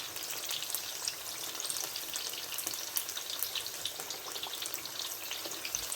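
Vegetable pakoras with potato and onion fry in oil, a steady, moderately quiet crackling sizzle with fine pops running evenly throughout, no voices.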